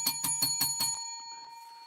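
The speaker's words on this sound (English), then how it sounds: "Ring that bell." A small bell rung in five quick, evenly spaced strikes, close and bright, followed by a clear ringing tone that slowly fades after the strikes stop.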